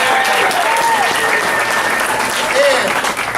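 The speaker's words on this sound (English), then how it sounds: "everybody give our graduates another round of applause" Steady applause from a large crowd at a graduation ceremony fills the whole clip, with a couple of brief whistles or cheers rising above the clapping.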